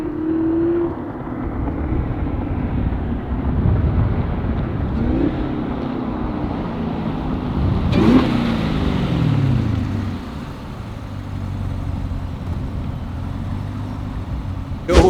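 A Camaro ZL1 with an AWE Tuning Touring non-resonated catback exhaust idles and revs in a deep, steady rumble, with the pitch rising and falling around the middle.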